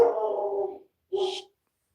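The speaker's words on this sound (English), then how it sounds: "my dog won't shut up" A domestic dog lets out two loud, close barks, the first drawn out into a whining howl and the second shorter after a brief pause.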